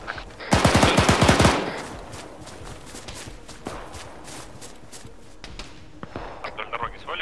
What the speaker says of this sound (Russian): Ты сейчас стрелял, да?